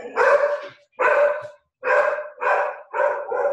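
A dog barks nearby in a run of five or six loud, sharp barks, spaced unevenly with brief pauses, heard alone with no talking.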